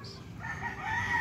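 A rooster crows out over a yard busy with chickens, its call rising and holding loud and close while hens cluck and murmur low beneath it.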